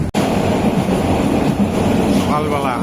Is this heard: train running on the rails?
yes